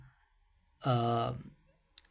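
A computer mouse clicks on a website link: after a brief spoken phrase, two quick, faint clicks follow close together near the end.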